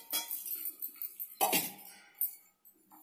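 Tamarind being washed in a bowl, heard as faint clinks and knocks of the vessel with one sharper, louder clatter midway, set against a near-silent background.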